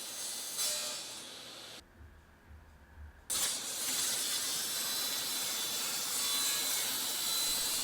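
Table saw cutting a polycarbonate sheet in a workshop, a loud continuous rasping whine interrupted by a brief quieter gap, then a sustained cutting roar to the end.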